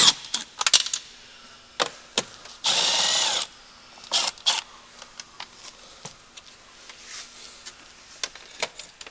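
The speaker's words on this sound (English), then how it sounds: "let's get those rear bolts out, or 8mm plastic thread" Power tool whirring on rear valve cover bolts of a 2010 BMW 335i GDI engine, one sustained burst of under a second amid scattered clicks and taps of work nearby.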